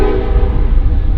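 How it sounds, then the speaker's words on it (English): A passing train blasts its horn loudly near a Texas skatepark, a sustained, close, overpowering tone with heavy rumble underneath, filling the whole moment without pause. "there's a train that always goes by that honks really loudly"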